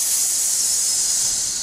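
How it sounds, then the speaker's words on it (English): A steam engine being steamed up gives off a steady, loud, continuous hiss of escaping steam, unbroken for the whole moment. "I'll just go and start to steam her up, then."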